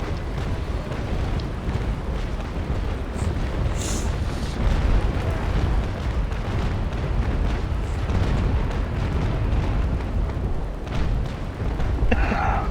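Ship cannons firing in a naval battle game, a dense stream of booms and bursts running together in a continuous rumbling barrage, loud and close, with faint voices underneath.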